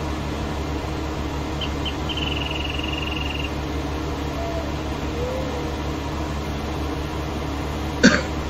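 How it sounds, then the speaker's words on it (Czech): A single short cough or throat clear from a man with a cold comes near the end, over a steady low hum of background noise. "Já se omlouvám za ten kašel."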